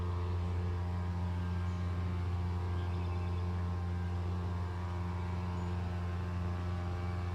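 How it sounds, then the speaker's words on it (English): A motorboat engine drones steadily at a distance across the water near a hammock campsite, a low continuous hum that stays faint but constant, with no voices. "you guys can probably hear there's a motorboat going by"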